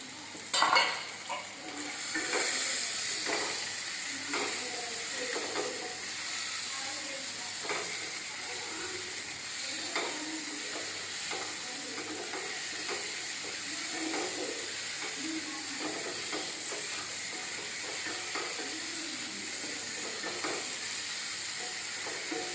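Long strips of capsicum sautéing in a hot pan for bread chilli, a continuous loud sizzle with repeated scraping stirs and spatula clicks throughout.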